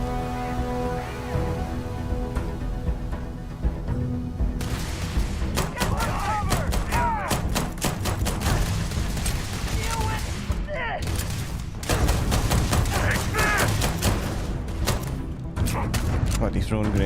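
Gunfire and repeated grenade blasts in the Starfield video game, a dense run of sharp shots and thuds that keeps going with only brief gaps, loud and close throughout.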